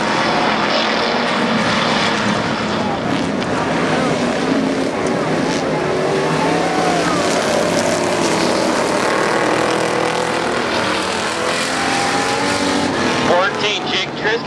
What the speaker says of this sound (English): A heat race for the street stocks underway.